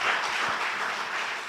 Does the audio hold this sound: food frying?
no